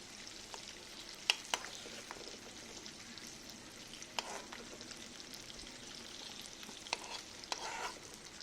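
Garlic frying in hot oil while preparing an Assamese fish egg curry, a steady soft sizzle with occasional sharper pops and clicks, fairly faint and continuous with no voices.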